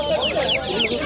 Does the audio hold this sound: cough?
no